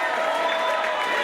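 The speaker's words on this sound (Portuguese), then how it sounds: "Uma salva de palmas para Serginho Meriti, de quem eu sou fã." Audience at a samba show, clapping and cheering in a dense, continuous burst of applause with crowd noise throughout the short stretch.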